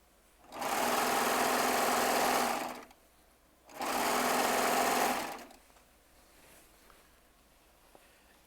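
Baby Lock serger running over quilting charm squares in two loud bursts of a few seconds each, a fast buzzing whir separated by a brief pause, followed by quiet handling sounds.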